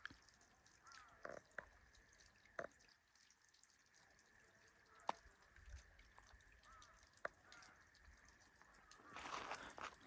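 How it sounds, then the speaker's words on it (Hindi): Water trickles and drips faintly in a quiet, snowy mountain valley on the way toward Pakistan's highest peak. Scattered drops and soft splashes stand out against near silence, and a brief louder rush comes near the end. "ये सिर्फ पानी की आवाज़ आएंगी।"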